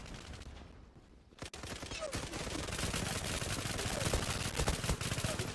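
Rapid automatic P90 submachine gun fire in the online shooter Zula, dense bursts of close shots running almost continuously after a brief quiet start, with faint talk underneath.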